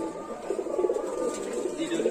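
A group of pigeons coo in soft, overlapping murmurs close by, a steady low burbling across the short stretch.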